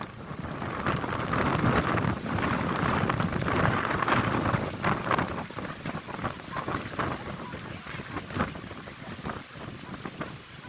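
Strong wind buffets the microphone at the Pa Sak dam, a steady loud roar and rumble that gusts hardest early on and eases slightly later, with no talk over it.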